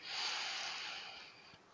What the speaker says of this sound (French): vous allez inspirer par le nez